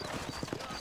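Horse hooves clip-clopping in the Red Dead Redemption western video game, a few soft quick hoof beats under a low steady background, faint and brief.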